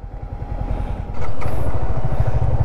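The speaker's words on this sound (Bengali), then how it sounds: "বালু দিয়ে বাইক চালানোর মজাই অন্যরকম।" A motorcycle engine runs close by while riding on sand at Cox's Bazar, revving up midway and then holding a steady, throaty drone, with a clattering rattle throughout.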